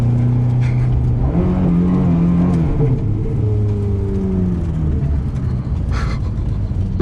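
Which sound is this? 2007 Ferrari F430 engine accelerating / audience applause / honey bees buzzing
2007 Ferrari F430 engine accelerating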